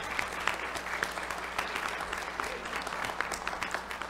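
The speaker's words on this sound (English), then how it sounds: "let's give these ladies a round of applause" Church congregation applauding women during a worship service, quiet scattered clapping with individual sharp claps standing out over a low room hum and soft voices.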